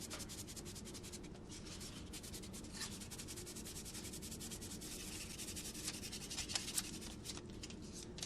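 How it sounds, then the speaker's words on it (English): Copper electrodes rubbed down with sandpaper until shiny, a continuous soft raspy scratching that runs steadily throughout at low volume, growing slightly stronger near the end. "we're going to sand these guys down one by one until they're nice and shiny"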